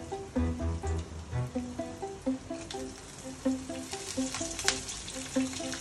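Curry leaves and green chilies sizzle in hot oil for rava idli, a steady crackling fry with tonal background music running throughout and a few louder spits and pops partway through.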